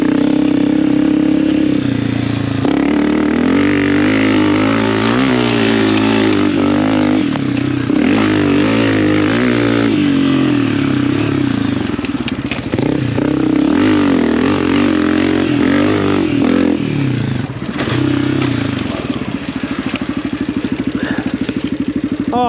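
A Honda CRF250F dirt bike engine runs close and loud for the whole stretch. It holds a fairly high idle with repeated blips and revs that rise and fall, and no talk is heard.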